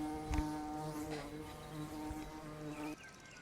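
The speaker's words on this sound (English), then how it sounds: "This little bumblebee is very common and is known as the red-tailed bumblebee." A red-tailed bumblebee buzzing close by outdoors, a steady droning hum with shifting pitch that cuts off abruptly near the end, with faint background sounds.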